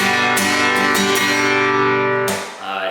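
Strum pattern number 2 played on a stringed instrument, a slow rhythmic sequence of strummed chords with sharp string attacks and sustained ringing between strokes, close and clear, alone.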